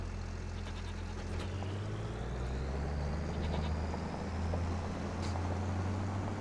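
Goats bleating on a farm in Farming Simulator 25, a few faint calls over a steady low engine rumble from a nearby vehicle.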